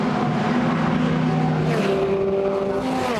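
BRDC Formula 4 single-seater race cars racing at Snetterton: several high-revving engines whine together, their pitches shifting with gear changes as cars pass, loud and continuous, with commentary faintly underneath.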